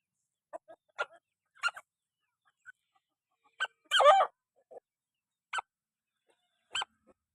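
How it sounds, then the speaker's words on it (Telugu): A hen among backyard chickens gives a series of short, sharp, isolated sneeze-like bursts spaced across a quiet stretch, one slightly longer squawk in the middle, close and clear with no talking. "ఏంది తుమ్ముతుంది కోడి."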